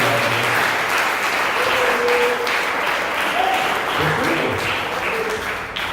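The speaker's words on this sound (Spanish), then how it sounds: "Denle un aplauso al Señor." Church congregation applauding during a Spanish-language sermon, a steady dense wash of clapping that holds at an even, fairly loud level throughout, with faint murmuring voices mixed in underneath.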